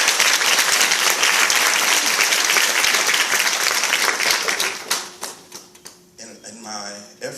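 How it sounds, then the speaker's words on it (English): Audience gives a dense, loud round of applause at a gathering of young men, clapping strongly for about five seconds before thinning into scattered claps as a voice begins speaking. "Why don't you give them another round of applause?"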